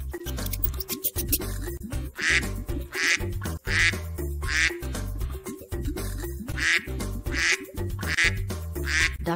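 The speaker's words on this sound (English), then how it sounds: "Duck sound squack." Duck quacks come in a regular series of short, nasal bursts, roughly eight of them, over the backing music of a children's sing-along song.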